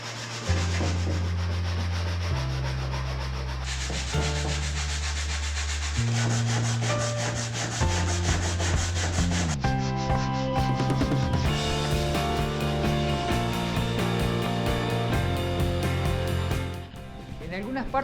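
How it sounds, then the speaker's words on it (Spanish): A random orbital sander with 120-grit paper works over pallet wood for a kitchen cabinet, a steady, close abrasive whir running without a break under louder background music. "Y lija fina 120 con la roto orbital."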